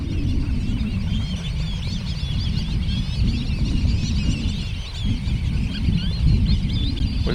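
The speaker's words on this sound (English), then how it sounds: "Black-bellied whistling ducks." Black-bellied whistling ducks calling at a winter birding spot in Louisiana, a dense, steady run of overlapping whistles and honks from a nearby flock, loud and continuous with no talk.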